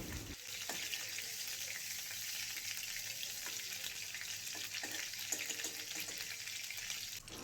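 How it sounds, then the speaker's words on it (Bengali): Nigella seeds frying in the same oil used for shrimp, a steady, fairly faint crackling sizzle throughout with a few small clicks, no voices. "একই তেলে আমি দিয়ে দিচ্ছি ওয়ান স্পুন কালো জিরে ফোড়ন"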